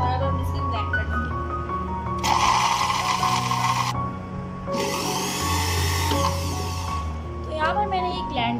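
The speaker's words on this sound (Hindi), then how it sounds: "Milo powder, cocoa powder, milk powder, ये सारी चीज़ें मैंने ऐड कर ली हैं और अब हम इसे ब्लेंड कर लेंगे।" A kitchen blender whirs in two bursts of several seconds each, mixing Milo, cocoa powder and milk powder for a chocolate shake, with someone speaking throughout.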